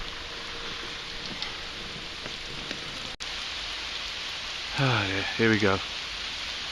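A heavy rain shower pours steadily over a walker just entering Hereford, a dense, even hiss of falling drops throughout, with a man's brief spoken words cutting in near the end.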